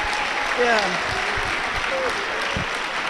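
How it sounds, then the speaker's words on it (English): Audience applause at a graduation ceremony for an education summit, a steady wash of clapping filling the hall while a voice speaks briefly over it. "Please keep clapping until she sits down."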